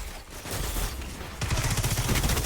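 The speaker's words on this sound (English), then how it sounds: "Trying to use my fusion because this is a much stronger lane for a fusion rifle." Fusion rifle fire in a Destiny Crucible match crackles in a dense, loud burst of rapid shots, rising in intensity partway through.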